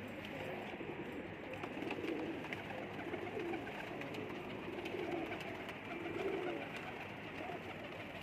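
Indian Teddy pigeons cooing steadily, several soft low throaty coos repeating close by over a continuous background hum, with no talking.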